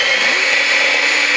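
An electric mixer creams softened butter for sugar cookies, giving a loud, steady, high-pitched whir that runs unbroken and without talk through the whole short stretch.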